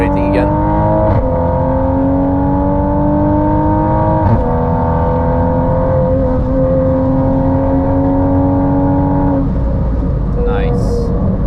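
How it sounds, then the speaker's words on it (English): A 910-horsepower hybrid turbo Toyota Supra accelerates hard on the Nürburgring, its engine roaring loud and close and rising in pitch through several brief gear-change dips. "And we're off accelerating again."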